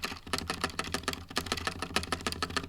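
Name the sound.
typing on Razer BlackWidow V4 75% White Edition keyboard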